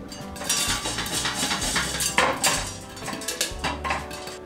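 Sago popcorn being stirred in the bottom of a lidded pan, rapid rattling scrapes and clinks of utensil against metal, loud and close with a rough, busy rhythm.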